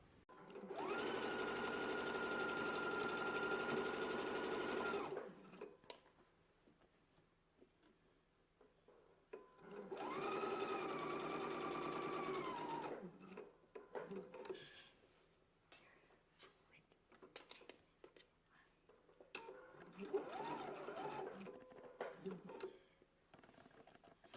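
Sewing machine stitching along a folded pressed edge, with two long runs of steady motor whir of about five seconds each and a shorter, weaker burst later, separated by quiet handling sounds.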